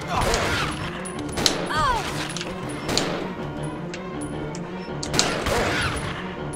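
Scattered gunshots from Resident Evil 0 HD Remaster, several sharp cracks spaced a second or two apart over a busy game background, with a voice briefly audible.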